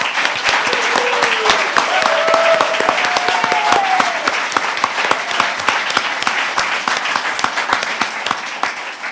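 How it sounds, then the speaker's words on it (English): A large audience at a book launch applauds steadily, dense clapping filling the room with a faint voice or two audible beneath it. "So let's have a clap for Mary Crooks."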